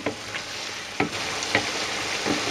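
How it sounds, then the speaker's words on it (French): A wooden spoon stirs paprika chicken in a pan, scraping in a few soft, irregular strokes over a steady close sizzle of frying. "On va bien mélanger avec la cuillère en bois."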